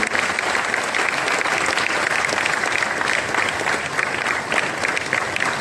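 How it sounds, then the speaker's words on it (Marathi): Steady, dense applause from a large crowd at a Marathi theatre lifetime achievement award ceremony, loud and continuous throughout without a break. "टाळ्यांचा जोरदार गजर मला आपण सुरू ठेवूया"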